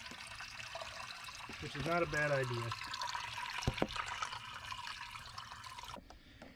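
Water trickles and pours steadily into a swimming pool pump system at a moderate distance, with a brief gurgle and a voice speaking briefly over it.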